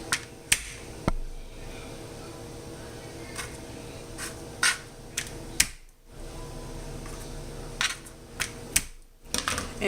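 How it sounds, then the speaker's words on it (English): A kitchen knife whacks garlic cloves on a cutting board to loosen the peel, giving a series of sharp, irregular knocks and taps close by, separated by quiet pauses. "You just take the garlic clove and you just hit it with your knife like this"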